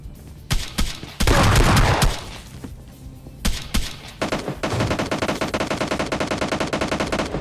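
Gunfire in the mobile battle royale game PUBG Lite, with loud single shots and bursts early on, then a long rapid automatic volley, all close and punchy.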